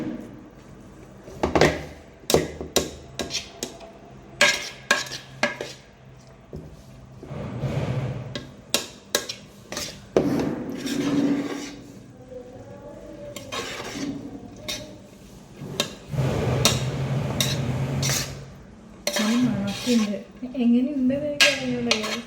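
A spoon scrapes and clanks against a pot while prawn biryani is stirred, with irregular metallic knocks and clinks spread across the stretch and a voice talking intermittently between them.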